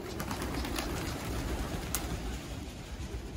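Pigeons coo in a steady low rumble alongside soft outdoor background noise, with light rustling and a brief higher sound partway through.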